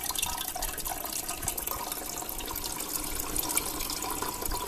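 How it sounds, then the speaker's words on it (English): Water from a refrigerator water dispenser runs steadily into a container, a continuous close hiss and splash holding an even level throughout with no pauses. "When I use the water dispenser and I get lukewarm water out of it,"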